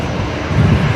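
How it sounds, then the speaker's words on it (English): Air Canada Boeing 787 Dreamliner taxiing at Brisbane Airport in the morning, a steady broadband engine roar with some wind buffeting, heard from a distance and continuous throughout. "Right, Air Canada on the move. The Dreamliner there, that should be heading out off the Legacy runway here this morning."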